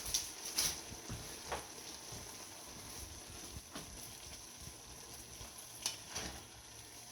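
Shredded cabbage and venison filling sizzling in a pan, a steady soft frying hiss with occasional stirring scrapes and small crackles, fairly quiet and continuous.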